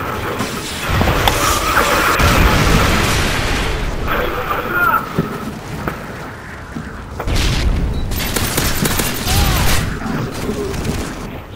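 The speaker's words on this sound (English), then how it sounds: "Watch this grenade" A grenade going off in Call of Duty: Modern Warfare 3, deep booming blasts amid ongoing gunfire and battle noise, with players talking over the action.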